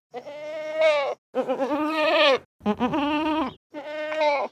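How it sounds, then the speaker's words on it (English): Four separate soft, contented goat bleats, each about a second long with short pauses between, close and clear with a wavering, nasal tone. "These gentle murmurs and soft bleats are the goat equivalent of a cat's purr."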